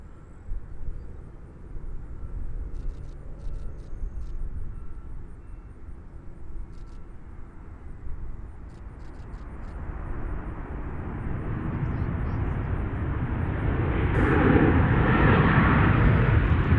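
A SkyWest passenger jet takes off from runway 20 center at Nashville airport, its engine roar low and distant at first, then swelling steadily into a loud, broad rushing thrust toward the end.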